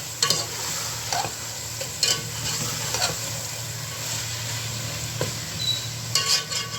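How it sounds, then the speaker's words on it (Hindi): Goat intestine with green chillies and fenugreek fries in a pan, a steady close sizzle broken by periodic scraping stirs of a spoon against the metal. "अब मज़ीद इसको मैं अच्छे से भून लूँगी, क्योंकि ये मेथी डाली है।"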